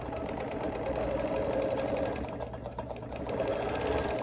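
A quilting machine stitches holly, berries and curling tendril motifs into a quilt, its motor running in a steady, even whir that stays loud and continuous throughout, with no talking.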